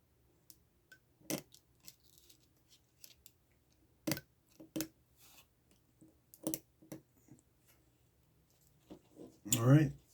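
Scissors snipping screen tone shading film while cutting out a mouth shape for a comic drawing, several sharp separate snips spaced across the quiet, close and fairly faint, with a louder crinkly rustle of the film at the end.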